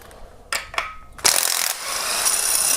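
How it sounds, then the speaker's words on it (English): A hand ratchet clicks as it loosens a 17mm normal threaded timing cover bolt on a Kia Optima during camshaft work, with a few separate sharp clicks followed by a quick continuous ratcheting run, loud and close. "We're going to go ahead, remove that bolt."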